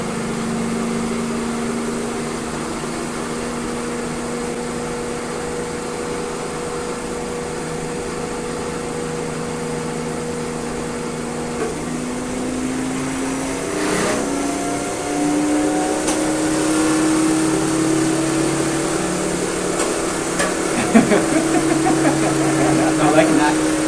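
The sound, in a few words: DC motor speeding up as field winding is adjusted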